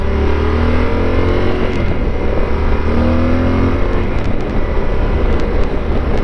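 Yamaha Super Tenere motorcycle rides through corners on twisty roads. A steady, close engine drone rises and falls gently in pitch, mixed with continuous wind and road rumble.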